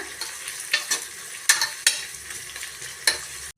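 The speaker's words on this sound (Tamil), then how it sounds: "கூடவே நாலு பச்சை மிளகாய் லேசாக கீறிட்டு சேர்த்துக்கலாம் நல்லா வதக்கி விட்டுக்கோங்க வெங்காயம் நல்லா வதங்கி வரட்டுங்க" Onions with four lightly slit green chillies sautéing in a pan, a steady sizzle broken by several sharp scrapes and stirs of a spoon against the pan, close and fairly loud with no talking.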